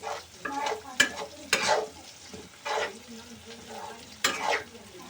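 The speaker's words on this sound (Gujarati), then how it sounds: "અને આને સડવા દઈશું ખૂબ અને હલાવતા દઈશું." Green peas frying in masala in a kadai are stirred, giving a steady close sizzle broken by sharp scraping strokes of the spoon about every second or two, with no talk.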